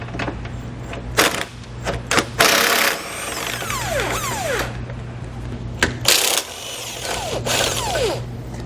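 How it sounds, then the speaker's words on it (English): Ratcheting and clicking of an 18mm socket wrench loosening bumper beam bolts on a 2016 BMW, with short bursts of ratchet clatter, metallic clinks and a steady low hum underneath, close and fairly loud. "We're going to be using an 18mm socket to remove the 2 bolts that you'll have on each side."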